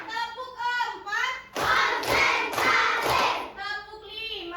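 A class of fourth-grade children claps in unison during a counting clap game, a few loud group bursts of dense clapping alternating with a teacher's voice and children chanting.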